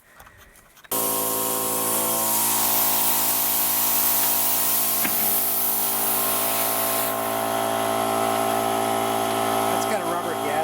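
An electric pump filling a tractor tire inner tube with windshield washer fluid switches on abruptly and runs as a loud, steady droning whine with a hissy edge, holding constant for about ten seconds.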